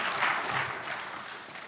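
A church congregation breaks into applause, a dense, fairly close wash of clapping that holds steady and then begins to thin out.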